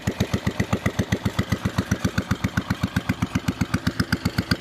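A Case 220 garden tractor's small single-cylinder engine runs steadily nearby, its regular thumping putter loud and even, like a riding mower idling.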